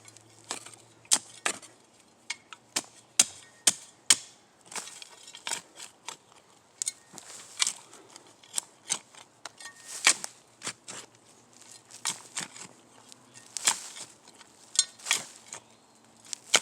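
A steel shovel strikes and chops into soil and a root outdoors, producing a steady series of sharp, close impacts at an uneven pace with scraping between blows.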